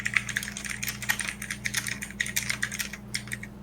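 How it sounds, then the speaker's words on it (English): Quick, uneven clicking of keys on a computer keyboard, close by and fairly quiet, continuing steadily with no voices. "who's that typing?"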